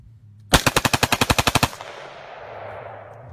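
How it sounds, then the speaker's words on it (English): Rapid finger-driven fire from a semi-automatic rifle simulating automatic fire: about a dozen sharp, evenly spaced shots in a fast burst lasting just over a second, then a long fading echo, loud and clear with no talking. "I'm going to simulate automatic fire with this semi-automatic rifle using only my finger."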